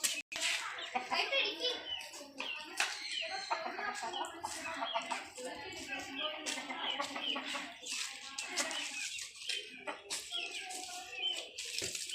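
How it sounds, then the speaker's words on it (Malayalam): Chickens cluck and chatter nearby in short bursts, with a few faint voices mixed into the busy yard sound. "വേറെ ഒരു കോഴിയും കൂടി ഉണ്ട്"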